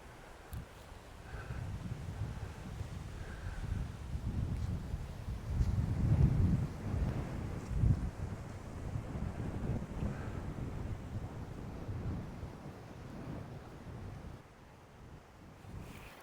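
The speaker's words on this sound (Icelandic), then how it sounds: "komið svolítið vindur" Warm wind gusts steadily across a golf course at Costa Ballena, a constant low rushing roar buffeting the microphone for the whole stretch, with no voices.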